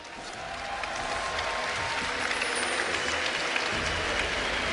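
A large esports arena crowd at Gamescom roars and cheers continuously in a big echoing space, a steady wash of noise rising slightly and holding without a break.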